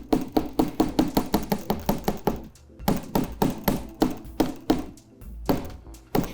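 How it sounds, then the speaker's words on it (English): Sharp metallic hammer taps beat on a small metal piece for a teardrop charm necklace, a fast even run of strikes, then a short pause, then slower spaced blows, loud and close with no talk. "So I'm still gonna hammer up there, just not as much as I am towards the bottom."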